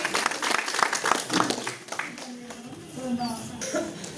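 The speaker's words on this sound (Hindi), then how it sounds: "कृपया जोरदार तालियों से स्वागत करें।" Crowd applause welcoming guests at a BJP Mahila Morcha meeting in Kathua, dense clapping that fades midway, then a fainter patter, with a voice heard over the room.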